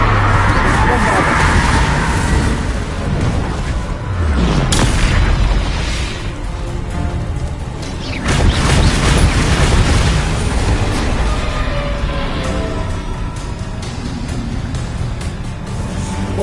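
A booming magical blast spell in Hogwarts Legacy goes off amid dense, continuous game combat noise, with loud explosive bursts layered over rumbling effects throughout.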